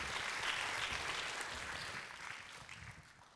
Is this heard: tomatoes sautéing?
no